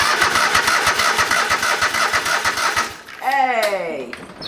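Old lawn mower engine cranking over with a rapid, steady chugging rhythm for about three seconds, then stopping as a voice speaks over the end.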